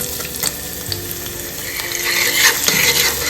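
Shallots sizzle and crackle steadily in hot coconut oil in a pot while being stirred, the frying growing a little louder toward the end, with no voices.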